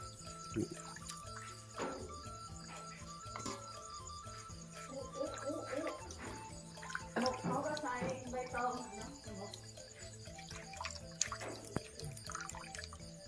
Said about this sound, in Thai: เอามาล้างเพื่อเอาเศษไม้ออกนครับ